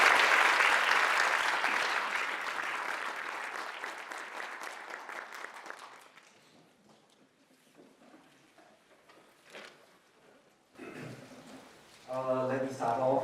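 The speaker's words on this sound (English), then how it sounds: "Big round of applause." Audience applause rises at a lecture on Venezuela and global oil geopolitics, swells loudly, then fades over about six seconds into scattered claps and quiet. A speaker begins talking near the end.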